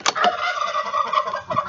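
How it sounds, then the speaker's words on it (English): A backyard turkey gobbling loudly and close, one rapid rattling burst followed by a rolling warble that trails off, no voices present. "because you have been graced with my turkey making all this kinds of noise"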